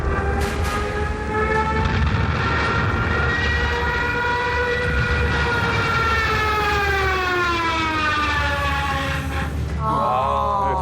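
A loud, piercing dive bomber siren wails continuously, its pitch sliding slowly down and then sweeping back up at the end.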